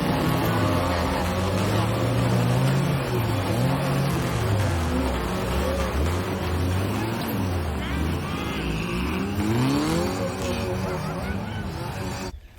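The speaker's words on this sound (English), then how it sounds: "the next thing we're probably known for is the way we drive the Cherokees" A Jeep Cherokee driven hard off-road, its engine loud and close, revving up and down continuously with gear changes and wind roar, with voices mixed in underneath.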